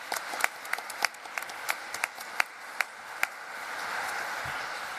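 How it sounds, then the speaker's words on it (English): Conference audience clapping for panellists at a finance event, a thin scattering of claps with distinct close individual hand claps standing out near the front, steady and moderate over several seconds. "So please give them a round of applause."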